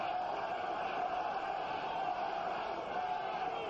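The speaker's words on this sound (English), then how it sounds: "And the crowd now starts to rally to the support of Berbick." A boxing crowd at Caesars Palace, many of them Canadian fans, rallies behind Trevor Berbick during his fight with Larry Holmes. It comes through as a steady, dense roar of cheering with no breaks, heard alone.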